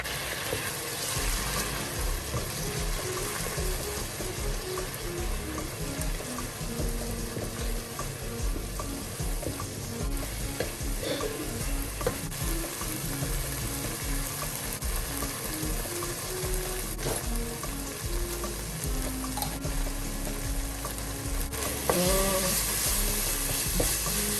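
Jerk chicken and rice being stirred together in a single pot with seasoning, giving a steady sizzling, scraping texture that runs evenly throughout with no talking.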